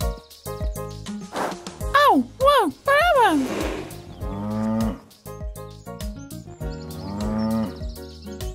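Cows moo several times in drawn, wavering calls, mixed with other bleating farm animals and short bursts of bright tinkling sounds.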